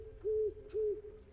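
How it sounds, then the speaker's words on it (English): An owl hoots twice in a video game, each call a steady, clear tone of equal length separated by a short pause, standing alone over a faint low background hum. "Hey, there's a hoot owl."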